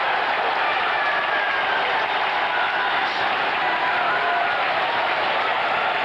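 A packed football stadium crowd roars after a goal in a Shelbourne versus Rangers match, a dense, steady wall of cheering and applause that stays loud and unbroken throughout, heard from within the stands with no gaps.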